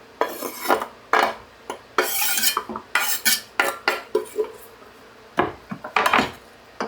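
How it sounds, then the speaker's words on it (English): Ground beef and onions browning in a pan for a cabbage roll casserole, heard mostly as loud, close scraping and clinking of a utensil stirring against the pan in short irregular bursts, with a faint sizzle underneath. "Browning the ground beef with the onions."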